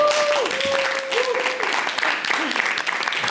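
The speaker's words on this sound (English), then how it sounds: "give them a big round of applause" An audience at a comedy hypnosis show claps for volunteers just woken from hypnosis, a full round of applause sustained throughout, with a performer's voice speaking over the clapping.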